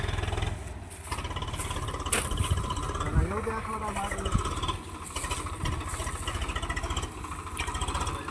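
A tractor engine idles and chugs nearby as it reverses, a steady low throbbing rumble under people calling out directions.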